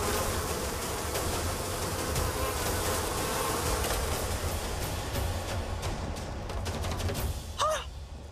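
A swarm of honeybees buzzes loudly and steadily, a dense continuous drone that fills the whole stretch, with a few brief sharper sounds near the end.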